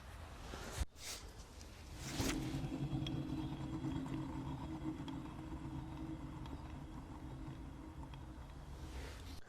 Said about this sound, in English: let's give this wheel a spin and hopefully you'll be able to hear the slight rumbling noise.